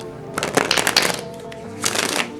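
Tarot cards are shuffled by hand in two bursts of rapid riffling flutter, close and crisp, separated by a short pause.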